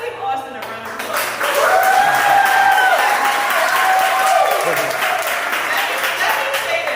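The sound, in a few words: audience applause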